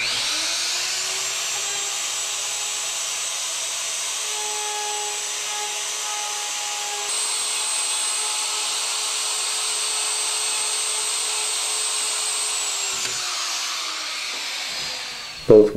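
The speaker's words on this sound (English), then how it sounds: "Insert the desired self-spacing letter templates into the jig and route." A router cuts sign letters through self-spacing templates in a Milescraft Sign Crafter jig, a steady high-pitched whine with broadband cutting noise running continuously for about thirteen seconds before spinning down, close and loud with no talk.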